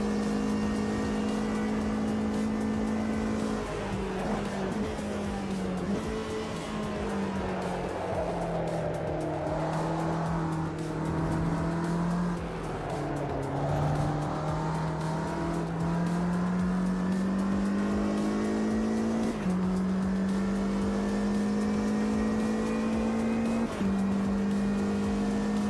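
Race car engine in Automobilista 2 on a qualifying lap, a loud continuous drone that rises and falls through gear shifts, with occasional tire squeal and no talk.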